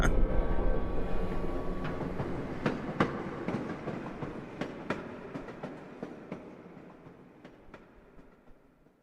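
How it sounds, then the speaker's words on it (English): Train in a subway station in a Resident Evil game rolls past with rhythmic clickety-clack wheel beats over a low rumble, loud at first then gradually fading into the distance. "oh, it's a train"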